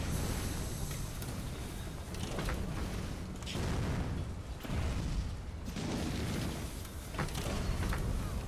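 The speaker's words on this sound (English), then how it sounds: "Fire cannon." Cannon fire in The Elder Scrolls Online Morrowind: several heavy booming blasts a second or so apart, each a broad roaring burst over a rumbling, creaking background, with no talking.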